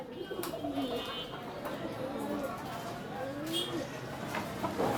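Pigeons and doves coo softly and repeatedly inside a pigeon shop in Bangladesh, overlapping low rolling calls under background chatter and a person talking.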